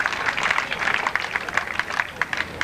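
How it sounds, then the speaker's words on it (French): A small audience at a marbles world championship final in Royan applauding, with scattered, rhythmic hand claps over a murmur of crowd noise and voices. "vous pouvez l'applaudir, je vous assure"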